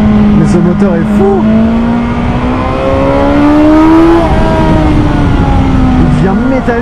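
High-revving engine of a 2021 BMW S 1000 XR motorcycle at speed, a loud shrill metallic wail that rises steadily, dips briefly, then climbs again through a gear change.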